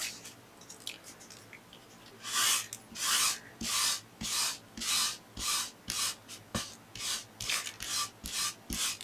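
Paper rubbed by hand to lift excess ink on a winter scrapbook layout, a dry, close, rasping swish repeated in a steady back-and-forth rhythm of about a dozen strokes.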